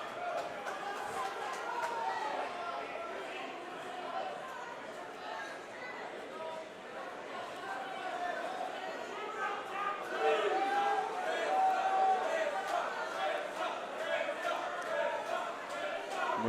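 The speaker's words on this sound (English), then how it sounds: "Marissa Smookler's got the crowd chanting her name here" An MMA crowd at an NFC 174 bout chants a fighter's name in a sustained, rhythmic roar, steady throughout and swelling slightly toward the end, with a commentator talking over it.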